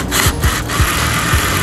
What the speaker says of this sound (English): go back with your support screws and just present them through the pre-drilled holes and self-tap into the rear bounce